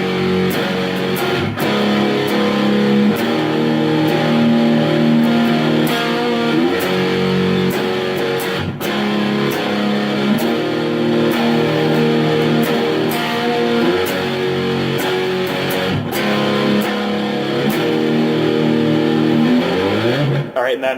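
Distorted electric guitar plays a song's chorus, a dense, sustained chordal passage that runs steadily and loud for the whole stretch with no talking over it.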